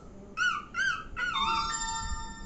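A voice imitates a small puppy, giving three quick high whimpering yelps followed by a longer drawn-out whine, close and clear with no talking.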